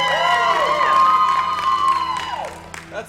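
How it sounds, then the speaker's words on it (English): Audience applause and cheering at a Fringe 2013 comedy show, a loud crowd roar with whoops that swells and then tapers off over a few seconds, with musical tones underneath. "an applause break"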